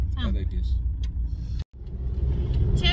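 Inside a car on a bumpy road, a low, rumbling cabin drone carries jolts and rattles, with a brief dropout midway and people talking over it.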